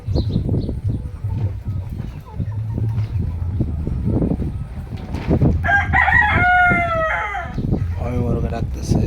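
Farm chickens, including deshi, farmi, tiger and layer hens, cluck and chatter in a steady low murmur, topped by a loud rooster crow and further calls toward the end. A voice speaks briefly.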